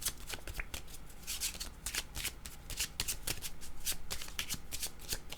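Tarot cards being shuffled and drawn, a steady run of crisp riffling and flicking card sounds close up, with no voices.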